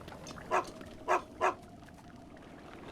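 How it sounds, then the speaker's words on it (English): A dog barks in Breath of the Wild: three short, moderate barks spaced over about a second, against a quiet ambient backdrop, followed by a sharp click at the end. "How dare you bark at me?"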